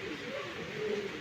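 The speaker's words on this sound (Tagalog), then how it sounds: "meron silang African lovebirds na laging ayan o, nadidinig nyo?" Faint, brief chirping and cooing of African lovebirds from a neighbor's cage, heard at a distance under quiet background hum.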